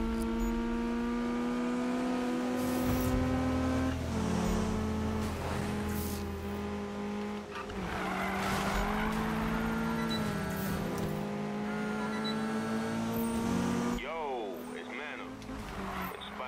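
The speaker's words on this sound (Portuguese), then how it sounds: "Certo, tamo aqui fazendo os drift." Car drifting in Need for Speed on PS4, with a steady engine drone and shifting tire squeal tones running throughout the whole stretch, under someone talking.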